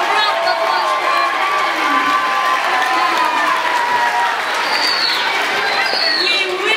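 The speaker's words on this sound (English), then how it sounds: "A round of applause for our" Audience at a school Christmas pageant applauding the band, with dense, loud, sustained clapping and some cheering that continues without a break.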